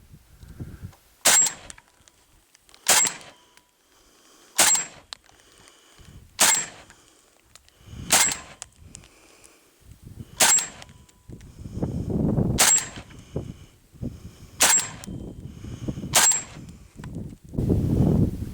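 An AK-74 rifle with a bare muzzle fires 10 rounds of 7N6 ammunition outdoors, sharp loud single cracks spaced about two seconds apart, each with a short echo, and faint background noise between them.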